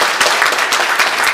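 A church congregation claps during a Sunday worship service, a dense, steady patter of many hands filling the whole moment at even loudness with no voices over it.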